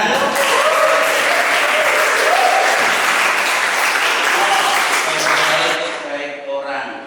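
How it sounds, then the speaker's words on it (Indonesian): Applause from a group of children in an Islamic religious education class, a dense, steady clapping that fills the room for several seconds before tapering off near the end. "Tepuk tangan."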